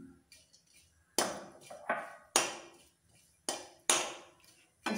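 Almonds being dry-roasted in a pan for sabudana kheer give several sharp metallic clanks and scrapes of spoon against pan, spaced irregularly with quiet gaps between, close and clear with no talk.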